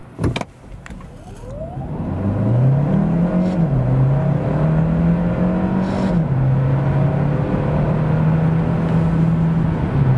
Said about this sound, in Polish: Tak wygląda sprint od 0 do setki.